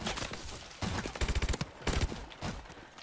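Call of Duty Exo Survival gunfire crackles in a quick series of close, punchy shots, a rapid rhythmic burst in the middle and scattered single shots around it, with no talk over it.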